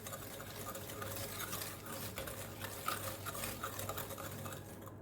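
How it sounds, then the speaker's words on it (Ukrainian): Salt and sugar being stirred into a yeast-dough mixture for Easter paska bread, a steady continuous scraping and swishing of a utensil in a bowl, close and moderately loud throughout with no talk. "Солі пів чайної ложки сюди додам і гарненько все перемішаю щоб сахар, цукор, щоб розчинився"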